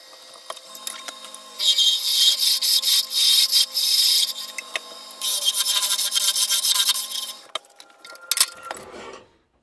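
A hand tool scrapes and rasps in bursts against maple while wooden tenons are cleared for a box joint, close and fairly loud, with small clinks and taps between strokes.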